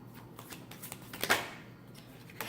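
Oracle deck cards being shuffled in a quiet room, a soft run of riffling flicks with one sharper, louder snap of cards near the middle, close and alone.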